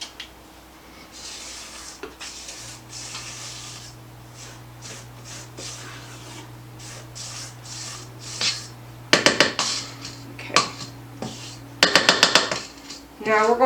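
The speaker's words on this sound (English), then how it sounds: "Now at this point I would suggest scraping down your bowl." A spatula scrapes down the sides of a mixing bowl of banana cake batter, a series of short scratchy strokes that grow louder and denser toward the end, over a faint steady hum.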